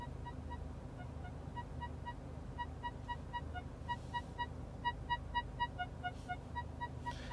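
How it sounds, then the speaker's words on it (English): Mercedes-AMG MBUX parking warning tone sounding inside the car: a quiet series of short electronic beeps that starts sparse and quickens into a faster, slightly louder pulse toward the end. "And parking, you can set warning tones."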